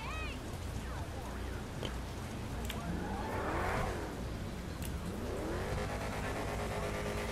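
A car engine revs in the GTA 5 video game, rising and falling whines repeating over a continuous hissy background, with other vehicle sounds mixed in.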